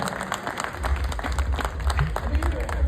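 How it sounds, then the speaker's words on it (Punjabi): An audience at a live comedy event claps and applauds, a dense patter of many hands that swells after the first second and continues steadily, with a voice speaking over it. "ਇੱਕ ਵਾਰੀ ਫਿਰ ਤੋਂ ਮਨਕਿਰਤ ਵਾਸਤੇ ਤਾੜੀਆਂ ਮਾਰੋ"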